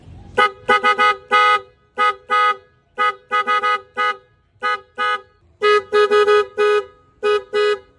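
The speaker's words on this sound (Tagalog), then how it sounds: "Napakalakas ng busina natin." A loud, blaring aftermarket Blaupunkt car horn sounds in a series of short and longer blasts with brief gaps between them, harsh and piercing, with nothing else heard.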